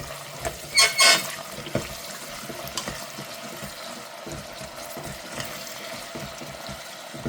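Fava beans with onion and oil frying in a pot, a faint steady sizzle with a brief louder burst near the start and scattered light clinks of stirring, no talk.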